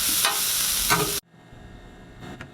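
Garlic barbecue sizzling in a pan during a breakfast cook, a loud dense hiss for about a second that cuts off abruptly, leaving a faint quieter background with a soft scrape or two.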